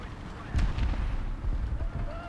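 A Churchill tank's cannon fires at a Panzer IV in War Thunder: one heavy, booming shot with a rumbling tail, loud and close, followed by lingering battlefield rumble.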